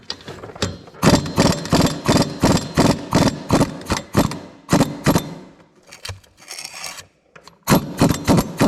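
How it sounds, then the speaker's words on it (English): Air impact wrench hammering at the clutch bolt on a Gravely ZT60 HD zero-turn mower with a Kawasaki engine, loud rapid bursts of rattling blows repeated in short pulses, with pauses between. "I got the air impact. This should take it off of there."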